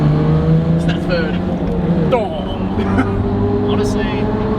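Toyota Troopy with a 2-inch lift rolling on 35-inch tires, a steady engine drone and road roar from inside the cabin while people talk over it.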